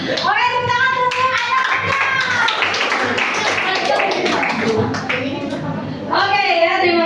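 A classroom audience claps for a student team after their presentation, brisk continuous applause with voices chattering and calling out over it throughout.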